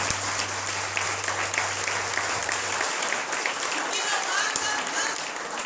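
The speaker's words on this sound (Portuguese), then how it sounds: "Então aplauda o Senhor" A church congregation at a Cerco de Jericó gathering in Mauá breaks into loud, sustained applause, dense clapping filling the space with a low hum fading partway through.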